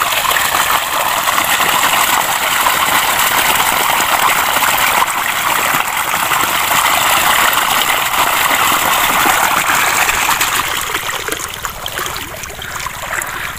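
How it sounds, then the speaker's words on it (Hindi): Water gushes steadily from an irrigation pipe into a wheat field, a loud continuous rushing and splashing stream heard up close for the whole stretch, easing slightly toward the end, with no talk. "ये आप चेक करें ये पानी माशाल्लाह से आ रहा है"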